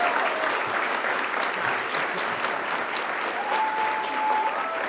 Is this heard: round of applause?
yes